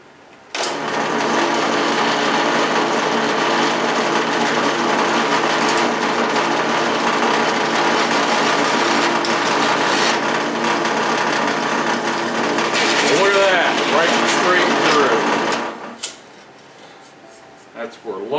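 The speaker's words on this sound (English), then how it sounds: "Now the trick's going to be getting the hole drilled straight through one side to the other" A power drill bores a hole straight through the handle of a treasure digger, a steady loud whine that runs for about fifteen seconds before cutting off, with brief pitch shifts partway through.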